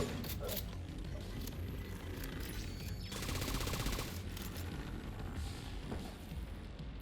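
Mini turret firing in the game The Division 2: dense, rapid bursts of automatic fire with mechanical clatter, sustained across the clip at a moderate distance, with no talk.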